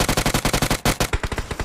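Rapid automatic gunfire in the mobile game Battlegrounds Mobile India: two quick bursts of evenly spaced shots, loud and punchy, with a brief pause between them.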